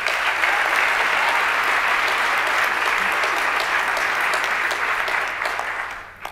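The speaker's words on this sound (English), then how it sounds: "Let's give all of these supporters of Columbus City Schools a round of applause." An audience at a Columbus City Schools State of the District event applauds for supporters in sustained, dense clapping that fills the room, then tapers off and fades near the end.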